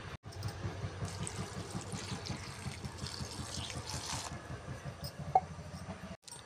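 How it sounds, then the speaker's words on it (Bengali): Water runs steadily from a tap into a bowl of cut mushrooms set to soak, a continuous splashing fill heard close and alone, with a soft knock near the end. "এখন এগুলো একটু জল দিয়ে ভিজিয়ে রাখবো।"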